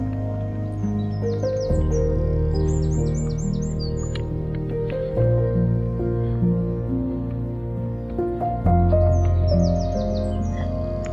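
Birdsong at the Englethwaite Hall caravan and motorhome site, with bright chirps and trilled phrases recurring over a steady low background hum and drone, clear and moderately close.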